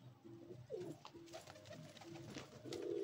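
Pigeons cooing softly in a loft, several low repeated coos overlapping against faint background noise.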